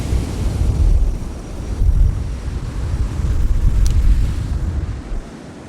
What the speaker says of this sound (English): It's blowing hard southeasterly, so it's blowing from right to left